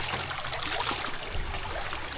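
Fresh water flowing steadily at Kondapalli waterfalls near Kondapalli Fort, Vijayawada, a continuous close trickling and rushing stream sound with no talk.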